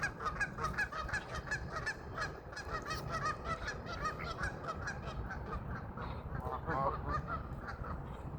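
Geese and ducks on a pond honk and call repeatedly while being fed, a busy, overlapping chorus of fowl voices at moderate distance with no talking.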